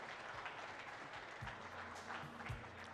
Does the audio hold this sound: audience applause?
yes